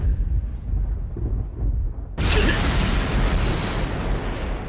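A loud thunderclap-like burst from a Thunder Breathing First Form attack in the Demon Slayer anime, crashing in suddenly after a low rumbling buildup and sustaining a broad roaring crackle.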